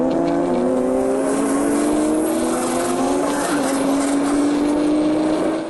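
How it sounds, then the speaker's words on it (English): A Toyota Corolla launching hard from a standstill, its engine note rising loudly through first gear, dropping at a shift and climbing again in second, close and continuous. "With a slight head start, Samantha's Corolla hooks up in first and second gears"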